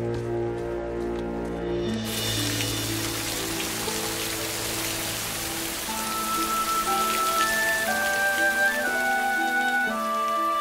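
Steady rain patters and hisses throughout, with soft, sustained musical tones playing underneath.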